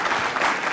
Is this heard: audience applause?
yes